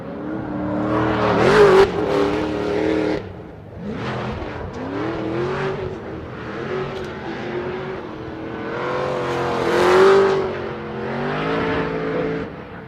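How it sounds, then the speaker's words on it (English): A supercharged BMW drift car at a Formula Drift event in Orlando revs hard and howls through repeated rises and falls, loud and close, with no talk over it. "I'll just let you listen to the supercharged BMW"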